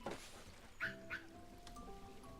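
Lemurs in the Planet Zoo video game give two short barking calls close together over a steady game ambience of rain-like hiss and soft tonal music.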